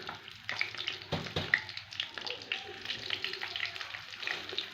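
Pieces of fish sizzle and crackle in hot oil in a frying pan, a steady close hiss with a few sharper spatters and clatters, and no talk over it.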